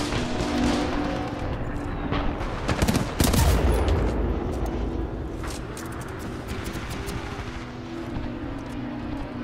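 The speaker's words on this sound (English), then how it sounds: "Two idiots shooting at each other." Continuous gunfire in a Titanfall 2 online Attrition match at Black Water Canal. Rapid automatic shots peak in a loud burst midway, over a constant roar of engines and battle noise.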